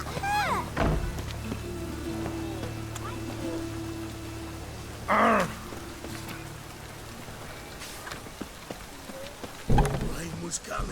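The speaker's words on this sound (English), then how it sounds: "Rain was coming." Steady rain falling in a Witcher 3 game scene, a continuous wash of drops with low rumbling thunder underneath and a few brief louder crackles.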